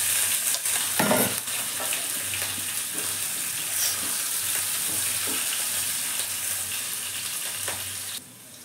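Chopped green chilli and ginger fry in a pan for Bengali masala paneer, giving a steady close sizzle with scraping stirs and a brief louder burst near the start, then dropping away at the very end.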